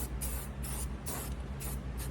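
Black trim aerosol spray paint hisses out in repeated short bursts onto a galley overhead cabinet, each quick puff lasting a fraction of a second, close and fairly loud.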